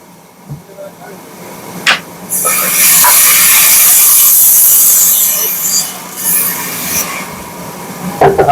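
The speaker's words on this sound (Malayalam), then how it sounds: "ഇതാണ്ട് മരങ്ങൾ കട്ട് ചെയ്യാണ്" A sawmill saw cuts a wooden log at a furniture factory mill in Nilambur. A loud, sustained high cutting screech lasts about five seconds, with knocks and clatter before and after.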